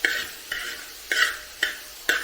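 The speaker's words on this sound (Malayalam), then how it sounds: "അതിട്ട് നമുക്കൊന്ന് ഇളക്കി കൊടുക്കാം" A utensil scraping around a pan of boiled chickpeas in five regular strokes, each a short scratchy swish over a faint sizzle, close and alone.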